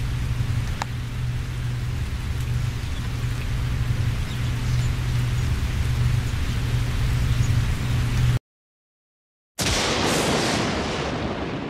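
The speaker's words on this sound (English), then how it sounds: "The rain continues to hurtle from the heavens." Steady heavy rain pours down for several seconds as a dense, even hiss with a low rumble underneath, then cuts to silence before the downpour resumes.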